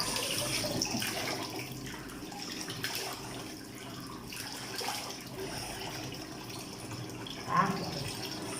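Water runs steadily from a tap into a sink while a face is rinsed, a continuous close splashing hiss lasting throughout, with a brief louder splash near the end.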